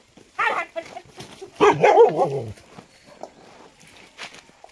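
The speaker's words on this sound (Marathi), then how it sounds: "अरे कुत्रा आले ना।" A farm dog barks in a short burst in the middle, while people talk close by and footsteps shuffle around.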